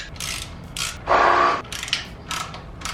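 A ratchet snugging down header bolts on an LS-swapped S10, several short bursts of clicking with one longer, louder run in the middle, close by and without talk.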